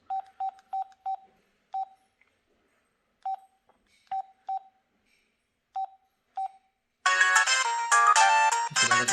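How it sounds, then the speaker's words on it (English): An LG AX390 cell phone on Alltel Wireless playing beeps: a sequence of short, sharp electronic tones in an irregular pattern, loud and close, then a dense burst of louder melodic ringtone music. "Let's go and take a look at the ringtones."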